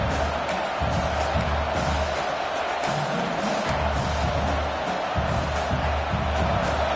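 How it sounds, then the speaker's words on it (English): A football stadium crowd roars with a dense, constant wash of cheering and noise that stays loud and unbroken for the whole stretch. "This crowd bringing the energy and noise early."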